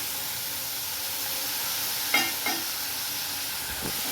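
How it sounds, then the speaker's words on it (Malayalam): Steady hiss of frying in a pan as tomatoes are stirred into an egg and soybean masala curry, with a couple of soft utensil scrapes partway through, no talking. "ഇനി ഒന്ന് നന്നായിട്ട് ഇളക്കി കൊടുക്കാം തക്കാളിനെ ഇട്ട് കൊടുക്കാം"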